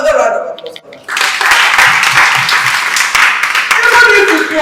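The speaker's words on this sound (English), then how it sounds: "Another round of applause for that." Brief voice gives way to a burst of audience applause and clapping at a training session, loud and close, continuing steadily to the end.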